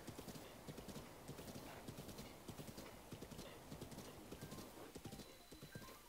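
Rhythmic hoofbeats of a galloping horse in the video game The Legend of Zelda: Breath of the Wild pound steadily and close, a fast repeating clatter that runs throughout with little else around it.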